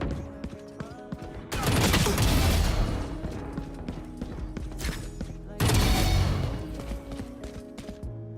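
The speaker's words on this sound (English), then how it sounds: "And he's shooting me." Bursts of rapid gunfire in a Valorant esports match, loud and close in two clusters of sustained shots separated by quieter stretches, with game effects and voices mixed underneath.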